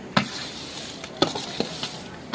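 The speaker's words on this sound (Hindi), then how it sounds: "चावल भी हमारे ऐड हो चुके हैं और इसको अच्छी तरह से मिक्स करेंगे" Rice added to a pot of boiling water and stirred, a bubbling hiss broken by a few sharp scrapes and clinks of a spoon against the pot.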